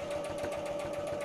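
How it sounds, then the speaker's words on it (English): A sewing machine runs a short back stitch while sewing a needle book cover, a steady fast whirring hum, close and continuous, with no talk. "Just do a little back stitch there just to make sure that that's nice and secure"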